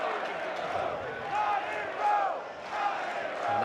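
A stadium crowd cheers and chants in rising waves at a Notre Dame vs Florida State college baseball game, a broad distant roar that swells three or four times.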